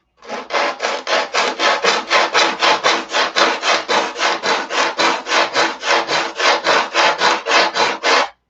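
Foam wing sanded by hand with 80 grit sandpaper: about two dozen even, rhythmic rasping strokes in quick succession, loud and close, with no talk.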